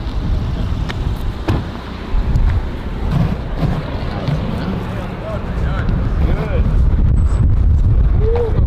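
Strong wind buffets the microphone outdoors in Chicago, a constant rumbling roar with gusty swells throughout, while voices talk faintly beneath the noise.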